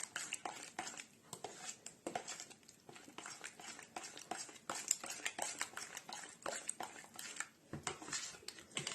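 A sauce mixture whisked and stirred in a bowl, rapid repeated scraping and clicking strokes of a utensil, close and busy throughout with brief pauses.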